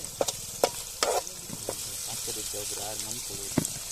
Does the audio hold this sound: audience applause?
no